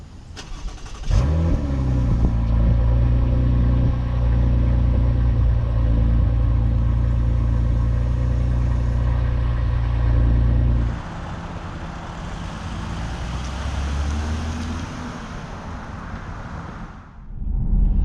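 A 2022 Toyota Avalon Touring sedan starts up and drives on the road, with a steady low engine hum and cabin rumble that shifts to rougher, louder road noise partway through before briefly easing, and no one speaking.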